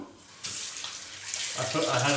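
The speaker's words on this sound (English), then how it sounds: "every time we rinse, I'm just going to rinse it under the tap" Water runs from a bathroom sink tap with a steady hiss that starts abruptly and grows fuller as it splashes, close and continuous, with no talking.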